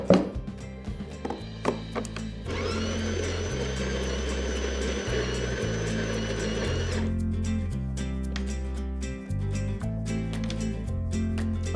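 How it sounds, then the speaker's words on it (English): A DeLonghi La Specialista espresso machine grinds coffee beans in a steady whirring burst of several seconds, preceded and followed by short mechanical clicks and taps, loud and close. "We will have to make a few more grinds until we get the desired fineness, so let's do that now until we get it right."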